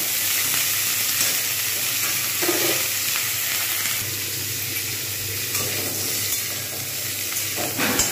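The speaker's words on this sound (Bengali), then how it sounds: "এইবার আমি এর মধ্যে সমস্ত ফুলকপিগুলো বসিয়ে দেব। ফুলকপিগুলোকে কিন্তু আমি ভালো করে ভাজব।" Cauliflower pieces frying in hot white oil in a kadai, a loud, steady, dense sizzle that holds close and continuous throughout.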